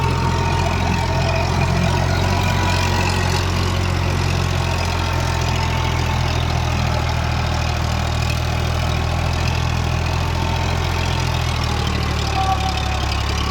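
An Eicher 551 tractor engine runs steadily while driving a rotavator, a constant low rumbling drone with a continuous mechanical hum and no voices.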